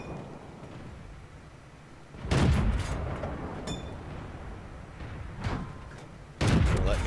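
Tank cannons fire in World of Tanks with a PzIV-H and KV-220 in play. Two heavy, booming shots land a few seconds apart, each with a rumbling tail, over a quieter engine-like drone.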